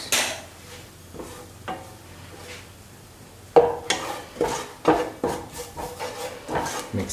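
A spoon stirs turmeric powder into a pumpkin and shrimp stew in a pot, with soft scraping at first and then a series of louder, rhythmic clinks and scrapes against the pot, close by and with no talk.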